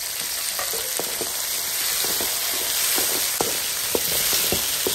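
Tomatoes and brinjal sautéing together in a pan for kara kuzhambu, a steady oil sizzle and hiss with occasional soft stirring clicks, continuous and close.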